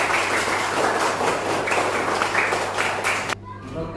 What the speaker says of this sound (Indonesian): Tepuk tangan buat Mas Rehan.